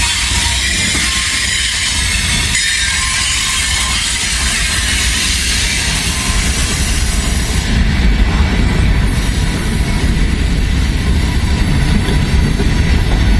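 A heavy freight train with distributed power units descends a hill under dynamic braking, its loud continuous rumble and rolling wheel noise filling the scene with a steady high whine above, close and unbroken, with no talk.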